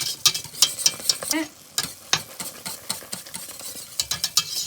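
A spoon stirs boiling cherry jam in a pot, giving a run of quick scraping, clicking strokes over a bubbling sizzle, fairly close and steady with no talk.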